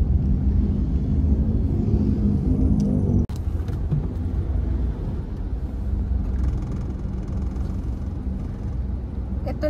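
A car drives steadily straight along a provincial road toward Bella Vista, San Jose del Monte, its continuous low engine and road rumble close and even throughout, with a brief bump partway through.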